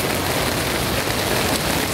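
Heavy rain pours down on a street in Taiwan, making a dense, loud, unbroken hiss and patter that stays steady throughout.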